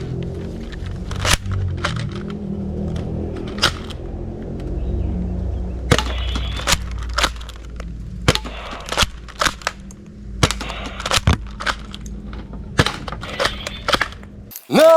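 A toy Winchester shotgun fires in a string of sharp, snappy clicks and pops, each one isolated, with a few spaced bursts over steady low background noise and a louder clatter at the very end.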